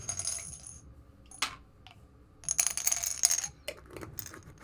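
Dice being gathered and handled at a tabletop roleplaying session while a player swaps D8s for a pile of D4s, giving bursts of small clicking, clattering rattles with quiet gaps between them, close and without talk.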